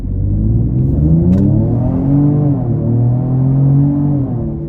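A Ford Explorer ST engine with a Thermal R&D performance exhaust revs and rumbles steadily, its deep exhaust note rising and falling through several pulls, loud and close.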